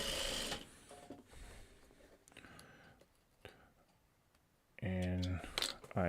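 A sewing machine stitches a quilt block in short runs, a loud rapid mechanical whir near the end after quieter starts, with a soft voice speaking between bursts.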